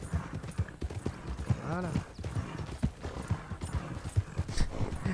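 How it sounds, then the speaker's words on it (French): Horse galloping in Red Dead Redemption 2 behind a train, with rapid rhythmic hoofbeats throughout and a brief whinny in the middle, while someone talks over it. "Les gens ils vont me voir derrière un train à galoper."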